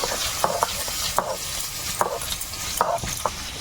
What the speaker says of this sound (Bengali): ওদিকে মাছ ভাজাও হয়ে যাচ্ছে